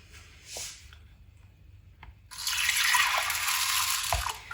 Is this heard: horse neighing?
no